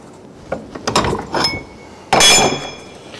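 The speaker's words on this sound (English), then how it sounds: "I'll just see if I can work that a bit with the bolster" Metal panel for a 1970 Holden HG ute roof rust repair, held in a vise and struck with a bolster, giving several sharp close metallic knocks and a louder ringing clang near the end.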